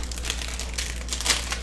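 The paper wrapper of a football trading-card hanger pack crinkles and crackles up close in a short burst of irregular rustling, with no voices over it.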